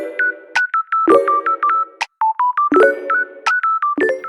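Phone call tones and a ringing pattern while dialing a best friend, loud bursts of bright electronic beeps in short repeating phrases separated by brief gaps, with no voices.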